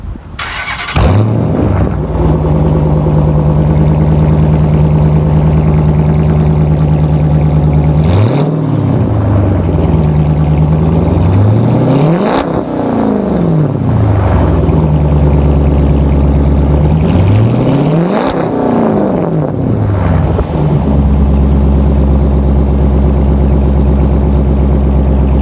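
A 2010 Dodge Challenger R/T V8 starts up and idles loudly nearby, then revs hard three times, each rise and fall swelling over the deep steady burble.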